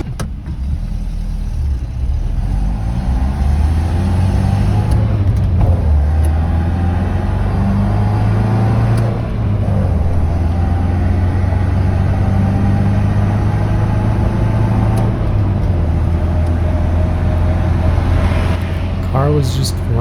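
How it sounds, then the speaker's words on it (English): A classic 1966 Volvo Amazon cruises along, its engine a steady low rumble with road noise droning throughout, close and loud from inside the car. "Car was just running great."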